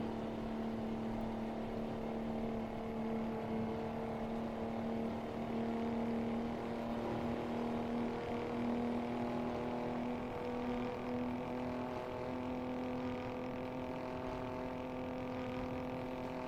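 An old Mack log truck in American Truck Simulator hums steadily, a constant engine drone with a strong tonal note holding unchanged and close throughout, with no voices.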